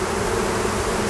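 A small late wild swarm of honey bees buzzing around a hive, a dense continuous drone at close range, steady and loud with no voices.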